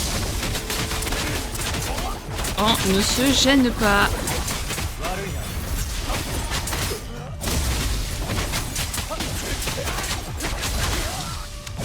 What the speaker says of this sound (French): il y a des explosions dans tous les sens